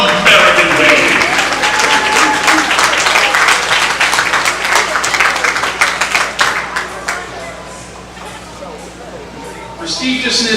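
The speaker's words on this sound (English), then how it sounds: "how about a huge round of applause for the Power Showcase 13U American League" Dinner audience at a youth baseball showcase gives a big round of applause, dense clapping that thins and fades toward the end before voices and room noise pick up again.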